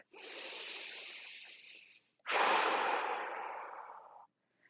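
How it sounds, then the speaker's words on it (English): Two long, close breaths taken while lying on a foam roller for a neck exercise: a steady airy draw, a brief pause, then a louder, fuller breath that trails off. "Take a breath to arrive."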